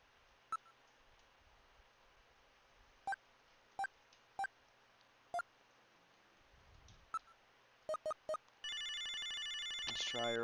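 Electronic telephone call tones and beeps from the Snatcher video game, a series of sharp, evenly spaced dialing bleeps followed by a brief burst of rapid ringing tones.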